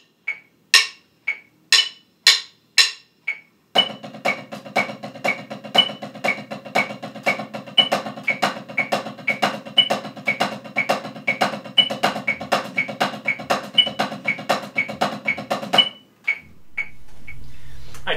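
Drumsticks playing paradiddle accent variations with Moeller technique, first a few single sharp strokes, then a steady, even stream of taps with regular louder accents, close and alone with no talk.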